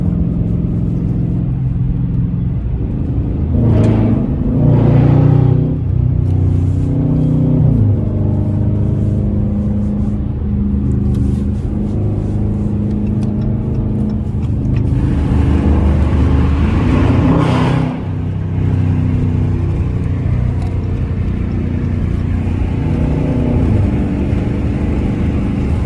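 A 5.7L Dodge Charger R/T in track mode at night, its V8 engine droning loudly from inside the cabin with rising revs and throttle swells under a steady road rumble.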